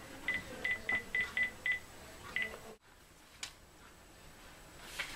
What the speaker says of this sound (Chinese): James， 我费了很多力气打电话给他